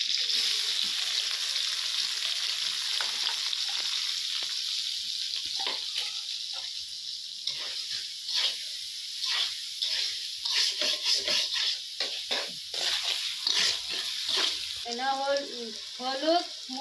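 Onion, garlic paste and ground spices sizzle and fry in a pan for chicken curry, a steady close crackle with intermittent stirring scrapes and clinks growing busier toward the end.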